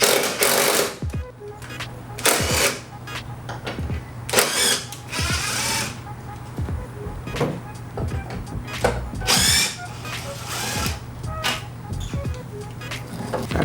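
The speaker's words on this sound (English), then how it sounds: "take our 10mm socket here and remove the two brackets in the fenders" Ratcheting 10mm socket wrench loosening bolts from the fender brackets of a Jeep JL, a series of rapid clicking bursts repeating at close range over a steady low hum.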